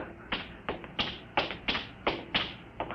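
A series of tapping steps, roughly eight footfalls at a steady walking pace, fairly close and moderately loud with no voices.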